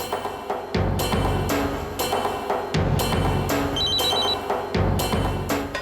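A telephone rings through an earpiece after a call is redialed over a weak network, a repeating electronic ring pattern heard beneath a dense, loud background of music.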